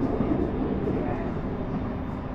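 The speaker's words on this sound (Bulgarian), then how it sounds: "А ето каква е гледката от вагоните, когато се пътува на това нещо наречено S-бан" A Berlin S-Bahn train runs above ground, heard from inside the carriage as a steady, dense rumble and rolling rail noise with no distinct breaks.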